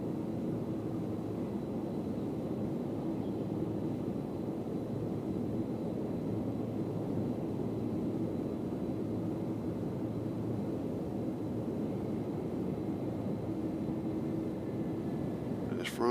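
A Frontier Airlines plane landing at Cincinnati airport, heard as a steady, even jet roar and low rumble that holds for the whole stretch from some distance away, with no break or peak.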